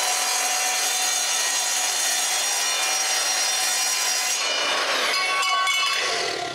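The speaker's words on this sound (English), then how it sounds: "I have to cut a piece of aluminium to make a new back support for the Z-axis" A saw cutting through a piece of aluminium plate, a steady, bright, harsh rasping that runs evenly for several seconds before ending in a few rougher strokes, close and alone with no voices.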